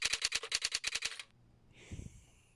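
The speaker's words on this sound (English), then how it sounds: "you get the sound of the typewriter as well" Typewriter key clacks from a hangman game app, about a dozen crisp evenly spaced strikes in a quick run, followed by a soft chime and a faint low thump, with no talking.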